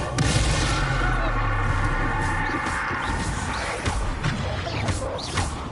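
A Bombarda spell blast in Hogwarts Legacy, a loud booming explosion with crashing debris and rumbling that stays dense throughout, with a voice heard under the noise.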